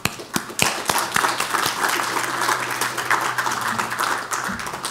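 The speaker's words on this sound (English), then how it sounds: "These guys deserve a round of applause as well" A round of applause at a groundbreaking ceremony for an academic center, opening with a few sharp, separate claps that merge into steady clapping from a crowd, with a low hum underneath.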